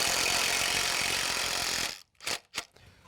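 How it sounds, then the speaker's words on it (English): Socket wrench fitted with an 11mm socket being ratcheted during an egress window frame installation: a steady dense ratcheting clatter for about two seconds, then a couple of short separate clicks, up close and with no talk. "11mm sockets on the end of the socket wrench"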